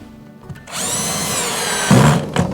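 A power drill driving a screw into a board, a loud close whine that holds steady for about a second before a heavier grinding thump as the screw seats, followed by a brief rattle.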